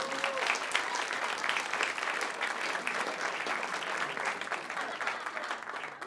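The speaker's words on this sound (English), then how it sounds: "Let's all give them a round of applause." Festival audience applauding visiting international filmmakers at a short film festival award ceremony in San Diego, a steady wash of many hands clapping throughout, full and even, with a faint voice briefly audible near the start.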